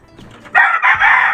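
A young rooster of a large, long-legged chicken breed crows once, loud and close, a long strained call rising after soft background noise.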